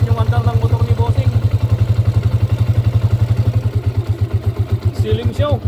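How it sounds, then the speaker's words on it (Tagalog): A motorcycle engine idles steadily up close with a fast, even putter throughout, a faint clatter rising briefly near the end. "Ayan na rin yung andar ng motor ni Bossing."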